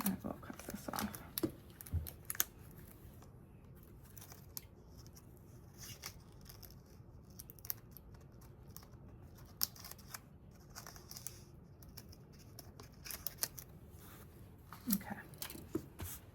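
Scissors snip through a torn paper strip while decorating a weekly planner, giving a few soft, close cuts among light paper handling and rustling.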